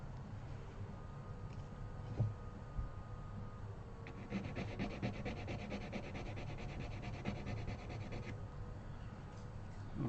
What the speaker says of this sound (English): I'm just sanding those off so that the ball ends don't get hung up on the end of these end pins